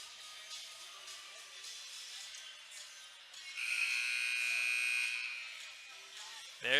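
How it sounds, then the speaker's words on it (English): In an ice hockey arena, a buzzer ends a timeout in the third period of a high school Selects game, sounding as a sustained electronic tone for about two seconds over distant crowd murmur. "There's the buzzer."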